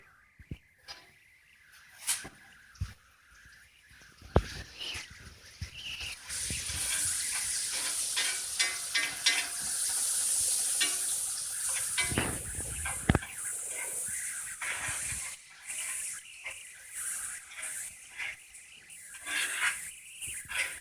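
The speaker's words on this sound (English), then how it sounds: "Into the pan they go." Sliced mushrooms fry in a pan for steak, giving a steady bright sizzle with occasional sharper crackles and pops throughout, close and fairly quiet.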